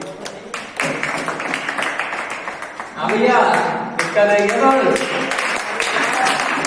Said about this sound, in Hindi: जोरदार तालियां अनिकेत के लिए